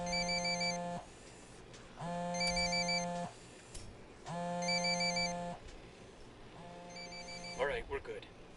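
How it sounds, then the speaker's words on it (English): A phone ringtone in the video game Ghost Recon Wildlands, four repeated electronic ring bursts about a second long with short gaps, moderately loud over a low background bed and speech. "Phone. That's no IED. It's ringing too much."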